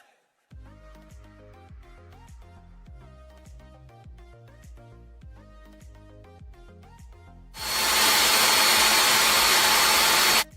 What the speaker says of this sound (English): So I'm going to wrap my hair and then blow dry